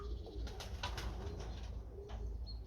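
Pigeons cooing after being given liquid minerals, soft repeated coos from nearby birds over a steady low hum, with no talk.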